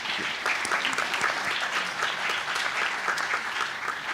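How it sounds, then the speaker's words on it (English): A school audience at a high school Tri-M Music Honor Society induction ceremony gives dense, steady applause for the music teachers, a continuous wash of many hands clapping throughout. "a little bit of a round of applause for our music teachers"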